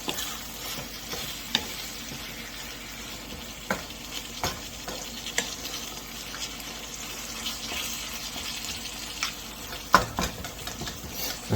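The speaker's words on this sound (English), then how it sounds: "gonna mix that in." Taco meat frying in a pan is stirred, with a steady sizzle throughout and soft scraping stir strokes recurring over about eleven seconds, heard close up with no talking.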